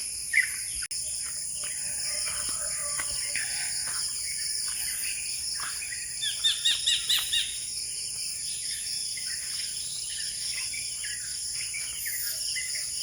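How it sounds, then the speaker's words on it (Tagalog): Dawn in a rural Philippine village, with scattered bird chirps and a quick run of calls midway over a steady, faint drone of insects; no chickens stand out. "Ang huni ng mga ibon at ng mga manok."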